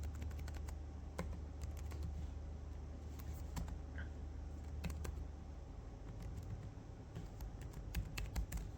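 Typing on a computer keyboard while entering a short word of HTML paragraph text, with quiet, irregular key clicks in short bursts over a low steady hum.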